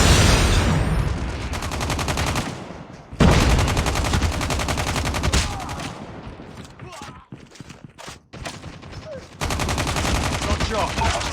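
Rapid bursts of automatic gunfire in a shooter video game heard through gaming earbuds, loud and dense with brief pauses between volleys, plus footsteps and reload sounds.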